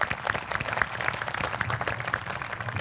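Audience applause at a Kaskaskia College ceremony, a steady wash of many hands clapping at moderate distance with a few sharper nearby claps, continuing evenly throughout.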